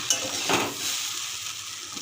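Prawns and jackfruit stirred in a sizzling pan: a brief scrape of the utensil over a continuous close frying hiss, with no talking.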